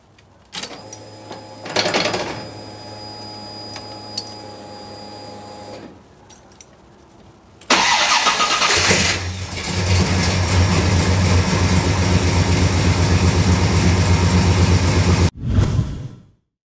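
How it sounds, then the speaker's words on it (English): A fuel-injected car engine starts with a brief key-turn and fuel pump whir, then fires up and settles into a steady, loud idle lasting several seconds before shutting off. "With the fuel injection, I just turn the key, let the fuel pump prime, fire it up, and I'm ready to go for a drive."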